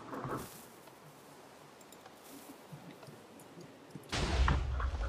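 Cannon fire in the Minecraft video game: a loud booming blast at the start, a quieter stretch of rustling game noise, then another heavy explosive burst near the end.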